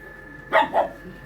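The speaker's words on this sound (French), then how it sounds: "Alors ça, c'est un bébé Golden Retriever." A Golden Retriever puppy gives two quick, high yapping barks close by, with a low background hum and no talking.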